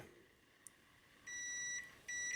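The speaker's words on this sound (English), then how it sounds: "you hear that beeping" A multimeter's continuity tester beeps twice while checking a cable, a sustained tone lasting about half a second, a short gap, then a second tone starting, over quiet background hiss.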